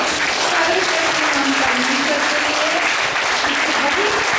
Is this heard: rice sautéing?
no